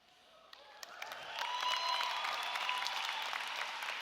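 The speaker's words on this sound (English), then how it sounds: "let me ask you to hold your applause" Commencement audience at Hofstra University's 2017 undergraduate ceremony breaks into applause, starting moderate and swelling into a loud, sustained roar of clapping that holds steady through the end.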